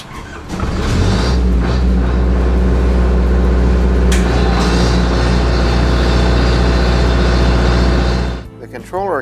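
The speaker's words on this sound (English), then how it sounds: "engine will start automatically in few seconds" A generator engine, run by a KUTAI GCU4K auto start controller, cranks and fires, then runs loud and steady for about eight seconds before cutting out abruptly. A voice can be heard alongside the engine.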